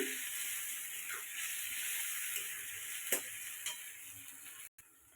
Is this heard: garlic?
yes